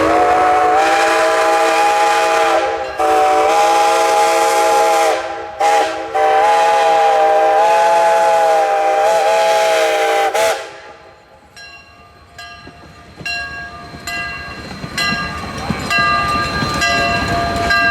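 Small steam locomotive number two at Hesston's Steam Museum sounds a long, loud multi-tone whistle in several blasts, then rolls into the station with clanking and hissing as it slows.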